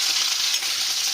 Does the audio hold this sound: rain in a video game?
no